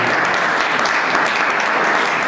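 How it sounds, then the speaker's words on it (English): Audience at a Hindu temple cultural event gives a steady, dense round of clapping, loud and continuous throughout without a break. "Big round of applause for Dr. Geeta Thanwar."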